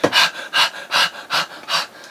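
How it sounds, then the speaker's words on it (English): A man panting for air after running: five quick, breathy gasps in a steady rhythm, close and fairly loud, with no words spoken. "comes bursting through the door, panting for air"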